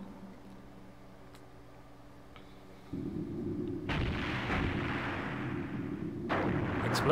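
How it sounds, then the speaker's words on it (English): Cannon fire and explosions in the video game Skies of Arcadia Legends: a low rumbling barrage that swells in after a quieter stretch, with booming bursts piling up and growing louder toward the end, no talking. "It sounds like cannon fire."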